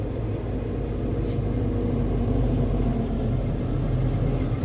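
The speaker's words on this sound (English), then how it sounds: "Highway 55, folks. This is a very busy road." Steady traffic on busy Highway 55 forms a continuous low rumble of passing cars, loud and unbroken, with no voices over it.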